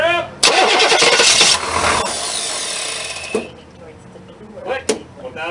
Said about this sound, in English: I'm gonna crank her up.